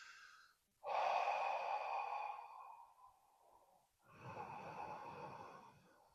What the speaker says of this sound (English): Ocean breathing on the inhale is really nice too.